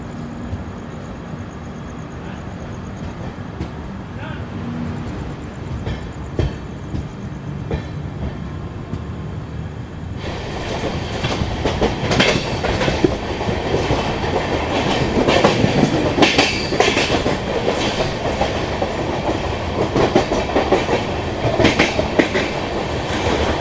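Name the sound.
Howrah Kalka Netaji Express train running after leaving Durgapur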